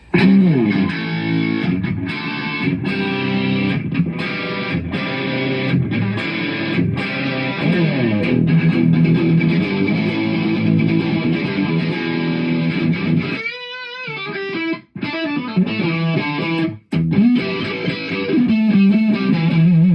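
Electric guitar played through an amp with a clean, dry tone, strummed chords and single notes continuing steadily, with a brief pause near the middle.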